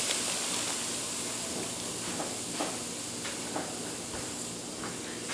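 Pound of ground beef sizzling in an electric skillet: a steady bright hiss with scattered small pops and crackles, close and even throughout.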